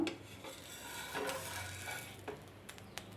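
An oothappam dosa being flipped on a pan with a spatula, heard as faint scraping and clinking of metal on the cooking surface, quiet and close, with a soft sizzle underneath.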